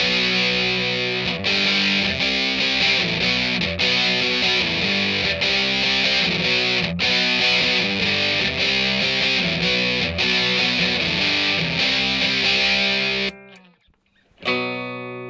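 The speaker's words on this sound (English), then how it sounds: "I've got a clean tone on my amp, and I'm using a Big Muff Pi to get that raunchy distortion." Electric guitar power chords played through a Big Muff Pi distortion pedal into a clean amp, thick and fuzzy, strummed in a steady rhythm with sustained chords, then a brief stop before a final chord rings out.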